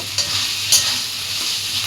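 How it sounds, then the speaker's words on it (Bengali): Ginger and garlic frying in hot oil, a steady close sizzle with a couple of sharper stirring scrapes near the start and middle, no voices. "আমি আদা রসুনটা ভালো করে একটুখানি ভেজে নেব"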